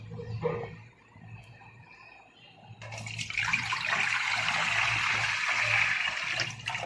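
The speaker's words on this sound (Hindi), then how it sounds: "सबसे पहले हम इसमें पानी ऐड कर देंगे।" Water pours steadily into a large cooking pot in a home kitchen while shami kebab is being made, a quiet start giving way to a loud, continuous splashing gush up close.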